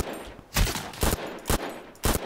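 Four loud, separate gunshots ring out at roughly half-second intervals in the Project L33T first-person shooter, each with a short echoing tail against a quiet background.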